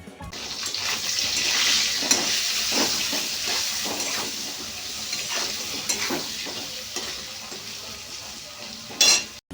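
Vegetables fried with salt and turmeric in a pan, stirred steadily, with a constant sizzle and hiss and the spatula scraping the pan in repeated strokes, ending in a louder clatter; no voices.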